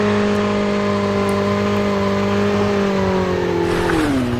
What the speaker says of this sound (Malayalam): എന്തായാലും ഇപ്പോൾ ബൈക്ക് എടുക്കുക